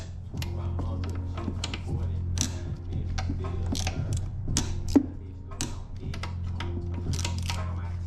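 A ratchet tightens bolts on a Honda intake manifold during a swap onto a 2011 Honda CR-Z, producing rapid close clicking and ticking strokes over a low steady hum.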